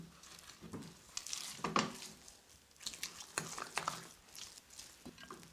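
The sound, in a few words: stirring chocolate barfi mixture in a pan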